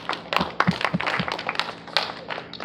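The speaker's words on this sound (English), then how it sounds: "let's give them a round of applause" A theatre audience applauds the cast, with scattered individual claps and taps at moderate volume over a roomy background, thin and uneven rather than a full ovation.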